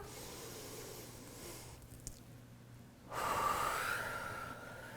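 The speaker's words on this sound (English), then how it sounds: "And as we come up, inhale." A single deep breath is drawn in during a breathing exercise, a breathy hissing inhale that begins about two-thirds of the way through and holds steadily, close and soft after a quiet pause.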